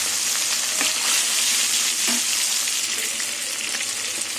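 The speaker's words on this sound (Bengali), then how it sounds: "এবার মাছগুলো তেলে ভেজে নেব।" Live snakehead fish frying in hot oil, a steady close sizzle with bright crackling throughout and a few soft pops and utensil taps, no voices.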